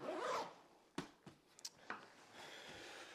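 Zipper on the front pocket of an EVERGOODS CPL16L backpack, a long close rasp followed by several short sharp tugs and a softer final pull, with no talking.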